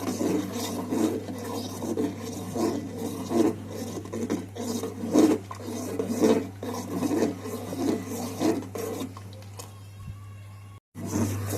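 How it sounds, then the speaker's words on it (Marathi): Sago pearls are stirred in a pan on a gas stove, a continuous rasping scrape of spoon against pan that repeats in rhythmic strokes over a steady low burner hum. "याला छान सतत हलवत राहायचं आहे"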